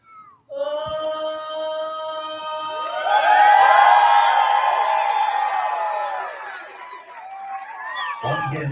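A ballpark crowd cheers and applauds loudly at a baseball game, the roar swelling and then fading, following a sustained sung note, with a voice joining at the very end.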